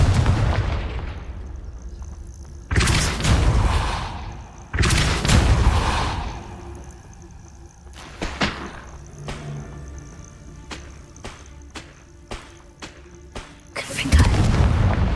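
Confringo spell explosions in Hogwarts Legacy, several heavy booming blasts with rumbling tails spread through the stretch, mixed with sharper cracking hits and game effects, with some talk in between.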